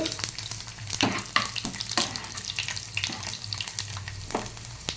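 Garlic cloves fry in hot tempering oil with cumin, a moderate sizzle broken by a series of sharp clatters and scrapes of a spoon stirring in the pan, with no speech.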